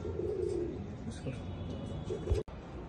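Fancy pigeons kept at home coo in soft, low repeated calls, fairly close, over a faint background hum, with a brief knock near the end.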